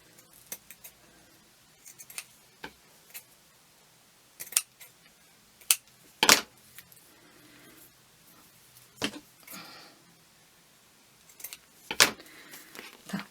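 Scissors snip craft paper for a double tag in a quiet room, giving a series of sharp, close, irregular cuts spread out with short gaps between them.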